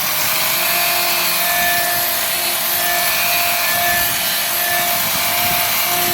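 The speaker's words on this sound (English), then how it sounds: "This is a very aggressive brush." A very aggressive brush scrubs the surface of a cast iron skillet being refinished for a non-stick finish, giving a steady, continuous close-up rasping rub with no talk.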